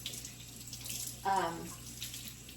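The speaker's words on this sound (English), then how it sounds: "I hope you can hear me with the water running" Water runs from a kitchen tap while hands are washed, a steady soft hiss with a brief louder splash midway.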